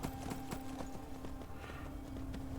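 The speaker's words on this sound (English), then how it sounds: "horse has been successfully tamed. Find and tame the red horse." Hooves clip-clop in a steady, brisk rhythm as a horse moves in a video game, a close, continuous series of hollow knocks over a low steady hum.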